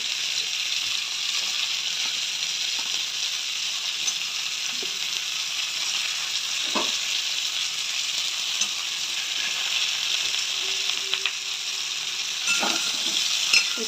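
Ridge gourd fries in a pan with a low, even hiss. Occasional light scrapes and taps of a stirring spoon sound faintly over the sizzle.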